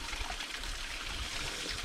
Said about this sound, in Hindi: तो पहले सर भिगा देता हूँ।